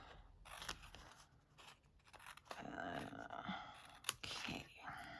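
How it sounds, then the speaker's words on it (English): Scissors snip through paper card for a handmade faux embossed heart card, a few faint close cuts and rustles with brief pauses between them, very quiet. "So I'm just turning this around and seeing where I'm cutting so I don't accidentally cut into this white base here."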